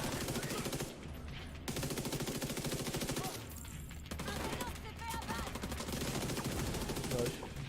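Sustained automatic gunfire from a weapon in The Division 2, dense rapid rattling bursts broken by short pauses, loud and close, with a voice speaking briefly underneath.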